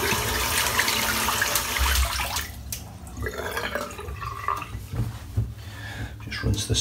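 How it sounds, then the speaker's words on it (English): Water rinses shaving soap out of a silvertip shaving brush, with running and dripping water at close range and a voice faintly present in the background. "Just rinse this soap out."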